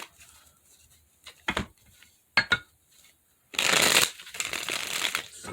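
Tarot cards being shuffled by hand, a few short riffling bursts followed by a longer, louder continuous shuffle close up, with no talking.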